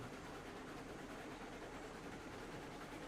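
A Heisler iron train hauling a long string of freight cars rumbles steadily along the rails in the game Railroads Online, a faint, continuous low roar with no voices.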